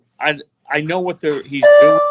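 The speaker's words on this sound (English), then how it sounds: "No, that's my alarm." A phone alarm beeps faintly in the background as steady high tones during the last half second, while someone talks over it in the foreground.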